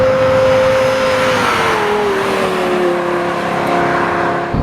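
A Lexus LFA's engine sings loud and close while driving, a steady high-pitched tonal drone that dips slightly in pitch as it eases off, holding strong throughout with no voices.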